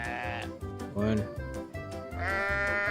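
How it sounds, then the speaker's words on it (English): Sheep bleat repeatedly from a sheep video, several wavering, nasal calls one after another with short gaps between them. "She looks up her favorite sheep video."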